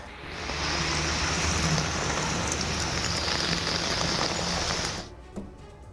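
Heavy rain pours steadily on a surface in Mumbai, a loud dense hiss that runs for about five seconds and then stops abruptly.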